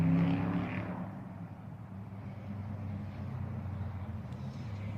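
A truck rumbles past outdoors at night, its loud low engine drone swelling at the start and then holding as a steady, continuous roar for the rest of the stretch, with no voices.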